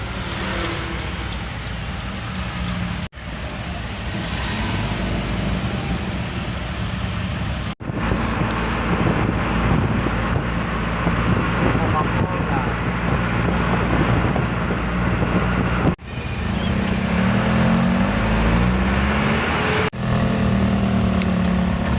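Road traffic noise heard from inside a moving vehicle on the way home: a loud, steady rumble and roar with a few brief breaks and shifts in tone, and no talking.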